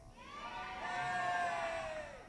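Crowd cheering and whooping at a Solo Speed event, a swelling chorus of high voices that rises and then fades. It sounds faint and distant.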